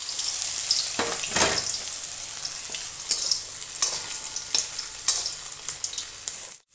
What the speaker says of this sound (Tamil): பாருங்கள், அடுத்த இது பொரிக்கலாம்.